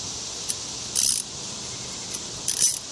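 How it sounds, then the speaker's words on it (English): A wrench works on a bolt of a 2014 Honda Civic exhaust, giving two short bursts of ratcheting clicks with a faint mechanical clink between them, close and fairly loud, with no speech. "Maybe we'll do this with just one wrench."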